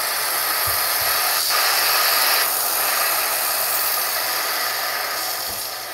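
The steam wand of a Breville Barista Express espresso machine steaming milk, a loud continuous hiss that holds steady throughout, with a few soft low thumps and a slight fade toward the end.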